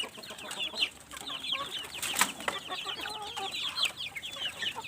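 Chickens on a farm cluck and chatter in a busy, fairly soft flock, overlapping calls close by with one louder squawk in the middle.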